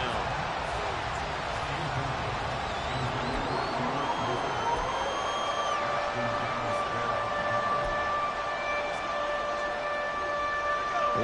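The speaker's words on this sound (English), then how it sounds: "This crowd turning up the decibel level." Stadium crowd noise from the Madden 24 football video game on PS5 on third and long. A steady, moderately loud roar swells continuously, with tonal game sounds layered on top.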